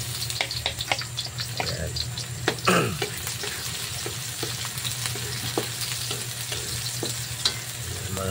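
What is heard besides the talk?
garlic sautéing in a pan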